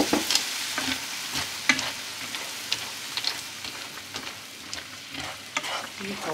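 Macaroni cooking in a pot of water, giving a steady soft bubbling and crackling simmer with small irregular pops, close and moderately quiet with no talking.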